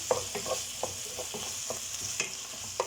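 Mushrooms sauté in a pan with a soft, steady sizzle, broken by repeated scrapes and taps of a stirring utensil, close and alone.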